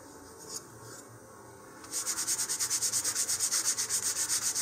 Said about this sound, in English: I'm just going to use my fine sandpaper once more and give them just a little bit more sanding